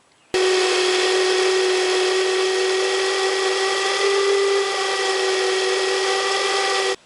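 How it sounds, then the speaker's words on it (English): A worn car alternator with failing bearings runs with a steady, loud, close whine and a grinding hum that starts suddenly, holds for about six and a half seconds, then cuts off. "If the bearings or bushings become worn or break, it could cause a grinding or whining noise similar to this."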